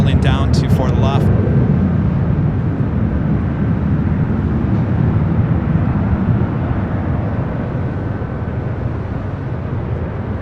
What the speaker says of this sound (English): got a very loud Southwest 737 now rolling down to for the left